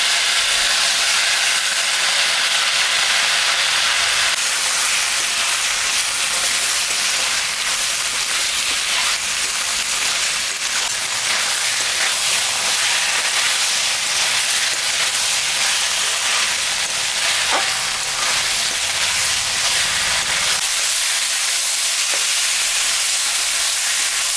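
Ginger, garlic and chili paste sautéing with turmeric for a shrimp and fig curry, giving a steady, loud sizzling hiss that runs without pause from start to end.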